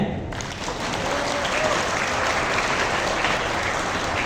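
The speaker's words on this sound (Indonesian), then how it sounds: "Bapak Ibu minta tepuk tangannya." A crowd at a KPPS polling-staff swearing-in at a hotel claps steadily, a continuous even round of applause starting moments in and holding to the end.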